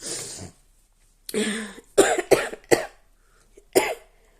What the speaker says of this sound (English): I'm really coughing right now.